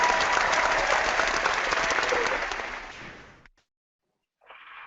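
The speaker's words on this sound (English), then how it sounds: "How about some applause, Mark?" Studio audience applause, a dense burst of many hands clapping that fades out after about three seconds, followed by a short gap and then a faint tonal sound.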